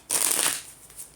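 One brisk riffle of tarot cards, a loud close rush of shuffling that fades into softer flutters.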